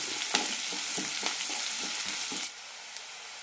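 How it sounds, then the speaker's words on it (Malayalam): Sliced onions frying with curry leaves and chili for dal sambar, crackling steadily in the pan with quick stirring scrapes, close and fairly soft, the sizzle dropping lower near the end. "നന്നായി വഴറ്റാം സവാള ചെറുതായി ചോക്കുന്നത് വരെ വഴറ്റിയെടുക്കാം"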